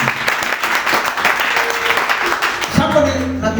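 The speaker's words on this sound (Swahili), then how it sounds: "Si tupigie wewe mwenye amesoma makofi mazuri" A church congregation gives a burst of applause, with dense, steady clapping for a few seconds before it fades. A voice begins speaking near the end.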